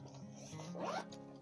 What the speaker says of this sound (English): Open up the zip pocket.